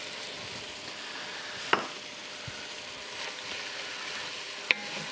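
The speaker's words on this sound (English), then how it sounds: "So we'll go ahead and add the mushrooms." Mushrooms sizzle and crackle on contact with a hot pan that already holds garlic, a steady close frying hiss with a couple of sharp clinks of utensils.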